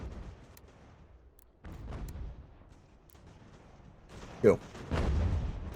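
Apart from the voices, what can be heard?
cannon fire from a video game (Ultimate General: American Revolution)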